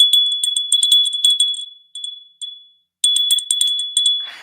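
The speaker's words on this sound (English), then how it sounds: "Look at the new rebuking bell. It's crystal, I think, or it might be glass." A small decorative crystal or glass bell rings repeatedly in bright, sharp strokes with a sustained shimmering tone, pausing briefly before another burst of quick jingling rings, close and clear with no talking.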